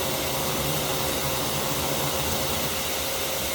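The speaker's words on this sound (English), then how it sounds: "I don't want to block the foragers from being able to get back down to the nest to be sucked up by the vacuum" A vacuum sucks up yellow jacket wasps at an underground nest, its motor and airflow giving a loud, steady broadband roar that holds unchanged throughout, with no voices.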